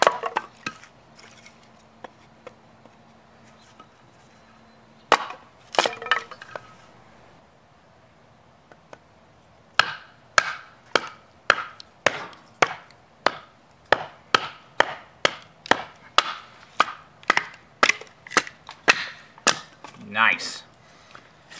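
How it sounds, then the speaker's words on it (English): Scar Blades Archangel knife, a tactical cleaver-style blade, splitting wood. A few sharp cracks come first, then a long, steady run of crisp chopping knocks about twice a second, close and loud. "So you can see there that this Archangel can definitely split some wood."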